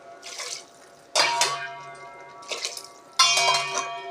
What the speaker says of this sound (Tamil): 2 டம்ளர் தண்ணியை ஊற்றிடுவோம்.